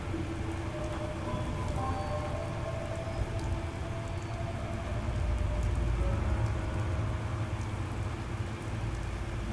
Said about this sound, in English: I don't know why this side of the map is always rainy, bad weather.